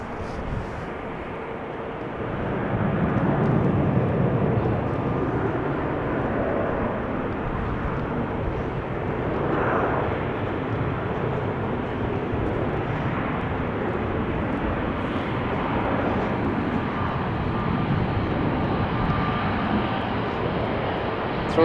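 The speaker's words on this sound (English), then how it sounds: "Cathay Pacific on the move." Cathay Pacific airliner moving at Amsterdam Schiphol Airport, a steady broad engine rumble that swells after the first few seconds and holds at a constant moderate level throughout, with no voices.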